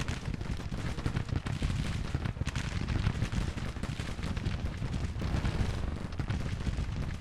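A Civil War battle in Grand Tactician rages as musket volleys and booming artillery blend into a steady, dense roar of crackling shots and deep thuds throughout.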